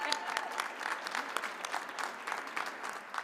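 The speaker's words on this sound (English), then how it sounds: "A big round of applause to all of you, the staff, and from everywhere." A crowd at a Three Kings Day celebration applauds steadily, dense clapping at a fairly even level from start to finish, heard from a moderate distance.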